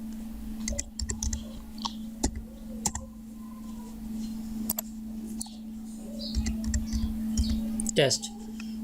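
Computer keyboard being typed on in short scattered bursts of clicks over a steady electrical hum, with someone speaking intermittently.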